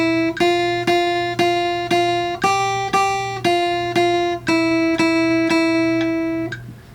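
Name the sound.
guitar notes played along with metronome click at 117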